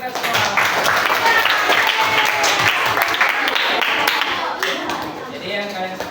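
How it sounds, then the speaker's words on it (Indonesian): A classroom of students clapping together, sustained lively applause for several seconds with chatter and voices mixed in, easing slightly toward the end. "Ya, tepuk tangan untuk kita semua."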